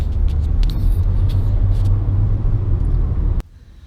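Car pulling over to the roadside: a loud, continuous low engine and road rumble with a few light knocks, cutting off abruptly to near silence just before the end.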